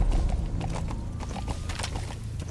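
Horse hooves clip-clop steadily in Metal Gear Solid 5, a quick regular beat of fairly loud hoof strikes over a rumbling game background, with no talking.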